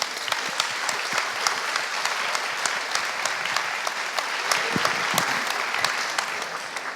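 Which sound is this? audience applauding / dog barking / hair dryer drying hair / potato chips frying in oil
audience applauding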